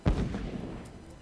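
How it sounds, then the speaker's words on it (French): One deep, booming explosion in SimCity 5 hits at the start and then rumbles away over about a second, loud and low with no other sounds. "Il y a eu une explosion."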